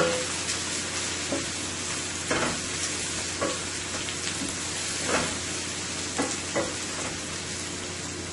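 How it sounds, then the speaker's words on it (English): Steady sizzling of onion and garlic frying on high heat in a hot pan, with occasional stirring scrapes and pops, constant and fairly close, no voices. "So I'm going to let this saute for about a minute or two."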